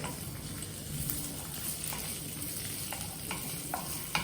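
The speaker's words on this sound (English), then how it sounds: "Stir this." Ginger being stirred and sautéed in a frying pan, a steady sizzle with scraping spatula strokes and a few sharper clicks, no talking.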